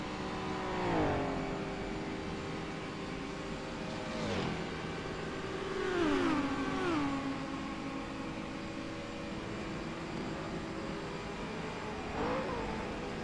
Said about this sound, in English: Just letting you hear the engine noise down the long back straight